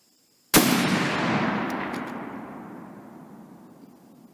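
A single loud, close shot from a Barrett M82A1 .50 BMG anti-materiel rifle after a short silence, with a long booming echo that fades slowly over several seconds outdoors.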